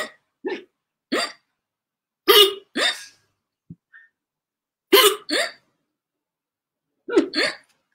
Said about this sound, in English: His hiccups still did not stop, and non-stop he went.